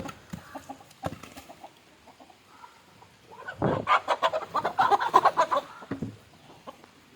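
Several chickens cluck in a busy burst of short, repeated calls, close by, with a few quieter clucks and thumps before and after.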